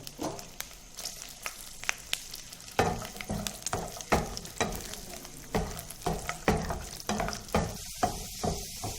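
Garlic pods frying in about three tablespoons of oil in a pan, a busy crackling sizzle with frequent pops and scraping stirs that keeps going throughout.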